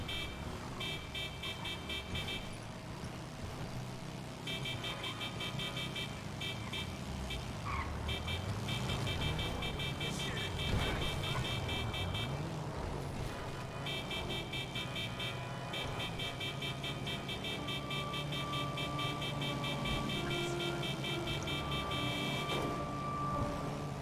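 Car interior noise from a vehicle being driven on the road: a continuous low engine and road rumble, with intermittent steady electronic tones and brief horn-like toots over it, no clear talking.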